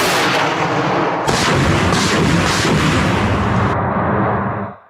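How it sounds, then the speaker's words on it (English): Artillery launcher firing ranging shots in a combat zone, a dense, loud sustained barrage of booming blasts and rolling reports filling the clip before cutting off. "The first shots are usually for ranging."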